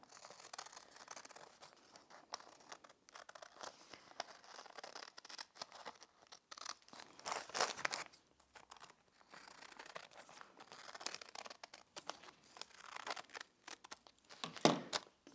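Scissors cut out a piece of fusible bond web for an appliqué pumpkin cushion, giving faint, irregular papery snips and crinkles that run throughout and grow slightly louder near the end.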